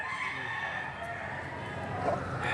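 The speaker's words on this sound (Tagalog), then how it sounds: "Para nakikita nyo rin kung gaano kakigisig ang mga manok dito" Chickens and roosters crow and cluck together at a Padre Garcia, Batangas livestock auction market, a steady dense chorus of fowl with background murmur and traffic hum.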